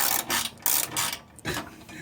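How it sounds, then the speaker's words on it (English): A ratchet tightens running board bracket bolts on a 2015 Silverado 2500, with a few close, loud bursts of rapid clicking separated by short gaps, no talk. "then we can start tightening all of our other bracket bolts"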